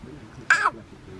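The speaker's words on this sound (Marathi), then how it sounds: "ही आहे काळी चिमणी." A single loud, harsh crow caw on a farm, one short call rising out of quiet background noise and a low murmur of voices.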